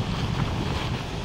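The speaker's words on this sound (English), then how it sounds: "It's so windy." Wind buffets a microphone outdoors during car work, a short burst of low rumbling roar and blustery noise lasting just over a second.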